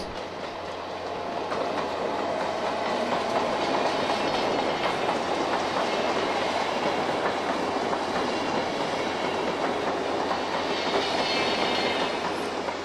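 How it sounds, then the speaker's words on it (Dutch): An Intercity train hauled by locomotive 1622 rumbles steadily past close by at Sittard station, wheels clattering over the rails in a continuous roar that lasts the whole time. "De volgende Intercity dient zich al aan. Ditmaal getrokken door de 1622."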